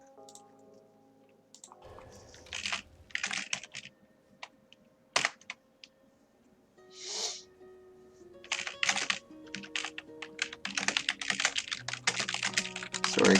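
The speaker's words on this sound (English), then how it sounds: "I'm just typing to them." Computer keyboard typing during a gaming tournament stream comes in irregular bursts of crisp clicks, near and moderately loud, with pauses between flurries and no talk.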